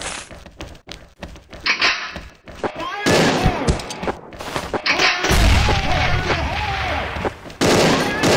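Bombs going off in the Dragon Street level of a video game, a string of heavy booming blasts with deep rumbles and crackling debris, loud and close, with rapid impacts in between.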